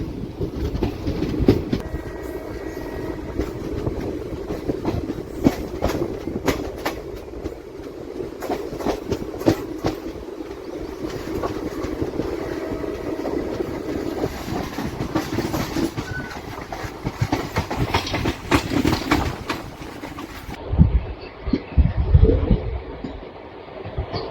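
The 17645 Secunderabad to Repalle express running on rails, a steady rumble with rhythmic clickety-clack of wheels over joints, heard from inside the moving train, loud and continuous with a brief heavier clatter near the end.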